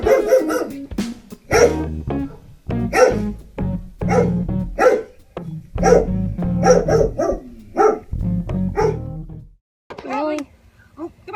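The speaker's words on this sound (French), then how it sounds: "Il a joué des aboiements sur un haut-parleur pour qu'ils comprennent ce qu'il endurait." A recording of a dog barking plays from a loudspeaker, a fast run of loud, close barks in bursts with short gaps, ending in a few higher yelps.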